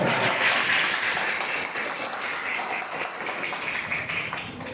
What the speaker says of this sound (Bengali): সবাইকে ধরে হাততালি দাও